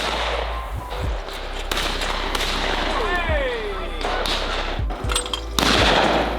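Several sharp, loud shotgun blasts ring out at an outdoor clay shooting charity event, spaced irregularly across a few seconds, with a person talking between and over the shots.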